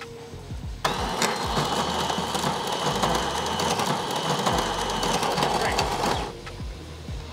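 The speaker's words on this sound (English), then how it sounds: "is grinding our coffee" The built-in grinder of a Philips 3200 espresso machine grinds coffee beans with a loud, steady whirring roar that starts abruptly, holds for about five seconds and then cuts off.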